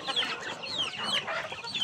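Pet chickens on an island farm cluck and chirp in a busy, overlapping chorus with shrill calls over steady low farmyard noise, close and continuous, with no talking.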